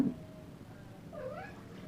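A pet cat meows softly in a kitchen during meal prep, a drawn-out, wavering call in the second half over low room noise, with no talking.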